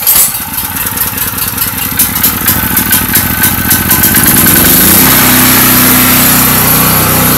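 A new gasoline generator cranks and catches, its small engine settling into a loud, steady running drone that builds in pitch and stays close throughout.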